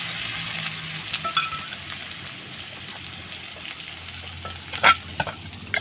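Chili being fried in a pan with garlic and shallots, a continuous soft sizzle with occasional stirring clinks and a few sharper scrapes near the end.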